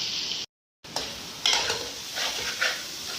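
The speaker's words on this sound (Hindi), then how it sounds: "मिक्स करेंगे इसको भी अच्छे तरीके से।" Grated boiled eggs are stirred into frying masala for masala fried eggs, with a soft sizzle, several scraping stirs of a spoon against the pan and a brief silent gap near the start.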